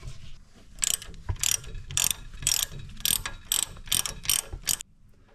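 A ratchet wrench works the end link bolts on a 2025 Jeep Gladiator Rubicon during a 2.5-inch lift install, using 21 mm and 18 mm sockets. It gives about ten rapid clicking bursts in a steady rhythm, close and fairly loud.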